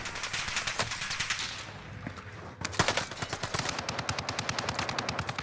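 Rapid automatic gunfire from a Type 100 submachine gun in the Warzone Pacific shooter game, dense bursts of cracking shots running almost continuously with a brief lull midway, loud and close.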